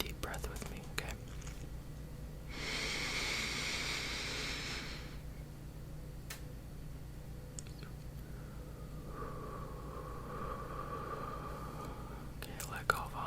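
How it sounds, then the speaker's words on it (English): Long slow deep breath drawn and released close to the microphone in a quiet whispered ASMR setting, a soft airy hiss lasting a few seconds, then faint breathy sounds and small mouth clicks. "let's take a nice deep breath with me"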